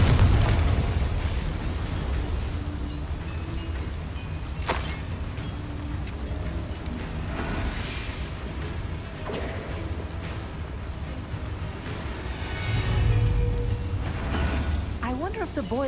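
A Confringo spell explosion in the Hogwarts Legacy video game bursts with sharp blasts and booms over rumbling, mechanical game ambience, with a deeper swell near the end.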